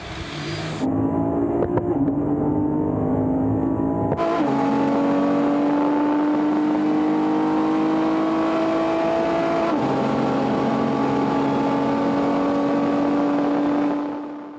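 A tuned Nissan GT-R making a launch start at a tuner gathering 0-300 km/h run, its engine roaring loud and close as it climbs through a long gear, shifts up and keeps pulling hard.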